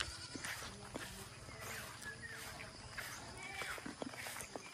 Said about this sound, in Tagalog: Kaya ipunta ako magpastol ng kambing.